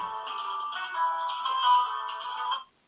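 An electronic telephone ringtone chimes in a steady repeating melodic pattern for a few seconds, close and clear, then cuts off abruptly into silence.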